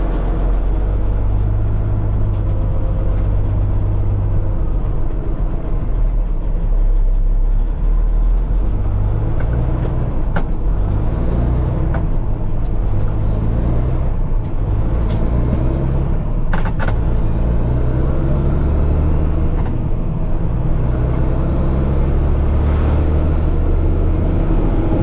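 A loaded truck hauling about 14 yards of compost on a shakedown run, its engine a steady, loud, continuous low rumble with gear shifts and wind noise, pulling hard throughout.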